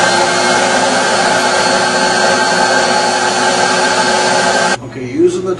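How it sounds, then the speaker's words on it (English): A carpet extractor's vacuum motor roars at a steady, loud whine as it sucks defoamer into the recovery tank, then cuts off abruptly near the end, leaving a brief quiet moment. "I just turn my vacuum motor on. And then I hit this switch here and then suck the defoamer right into that recovery tank."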